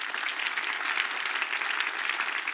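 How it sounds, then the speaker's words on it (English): A church congregation claps during a sermon, dense sustained applause filling the room evenly from start to finish, with no speech over it. "Come on, give God a big clap."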